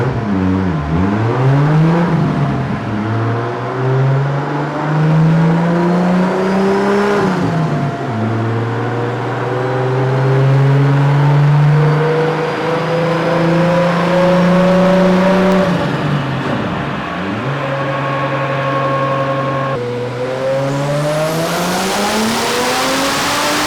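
Nissan S13 with a 1.5JZ engine revving hard on a dyno, loud and close, with repeated long pulls climbing in pitch, dropping back and rising again, no voices over the roar.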